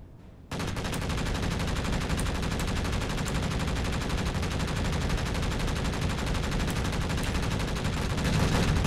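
Spaceship guns fire in Space Engineers as a continuous dense roar of rapid automatic fire, starting abruptly after a brief pause and holding steady and loud throughout without letup.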